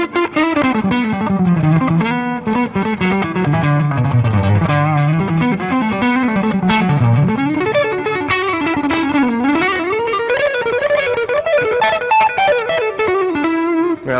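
An electric guitar runs through distortion and chorus effects, playing a flowing lead phrase of bent and sliding notes that dips low and climbs into pentatonic runs. It plays loud and sustained, alone with no talking.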